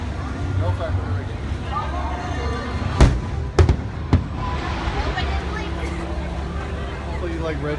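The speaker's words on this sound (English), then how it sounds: "Hopefully you like red fireworks." Star Wars fireworks at Disney's Hollywood Studios burst in a few sharp bangs close together midway through, over a steady background of crowd chatter and outdoor hubbub.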